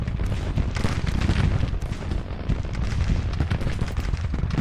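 Musket volleys and artillery fire from a Civil War battle in the strategy game Grand Tactician: The Civil War, a dense, continuous crackle of gunfire with booming shots, loud and sustained.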